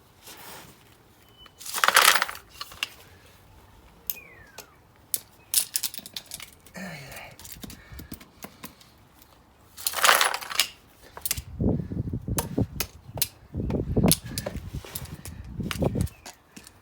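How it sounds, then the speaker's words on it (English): Metal screws and scrap clinking and clattering onto a swarf magnet in an anvil scrap yard, with scattered sharp metallic clicks and a few louder rattling bursts, close and intermittent. "Back out with a swarf magnet. Because I don't want to pick up any screws"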